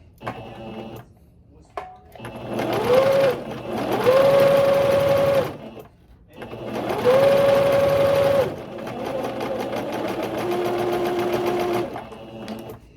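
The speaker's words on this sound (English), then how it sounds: "So we're gonna sew a straight line" A sewing machine stitches a straight line on tutu fabric in two long close whirring runs with a steady motor hum and rapid needle chatter, separated by a short pause.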